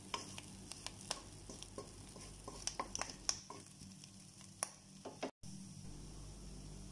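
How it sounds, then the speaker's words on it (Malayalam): Clams roasting with coconut in a pan for a spicy Kerala-style fry, a quiet sizzle broken by repeated light scrapes and taps of stirring, with a brief dropout near the end. "ഞാനൊന്ന് ഇളക്കി കൊടുത്തിട്ട് ഇച്ചിരിയും കൂടി റോസ്റ്റ് ചെയ്തിട്ട്"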